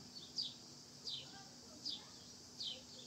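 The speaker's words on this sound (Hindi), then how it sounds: "चिड़िया का आवाज़ के अलावा कुछ साउंड सुनाई नहीं दे रहा है" Four short, high-pitched bird chirps at regular intervals, fairly faint against a quiet background with a low steady hum, in the quiet outdoors at Dalma away from the city.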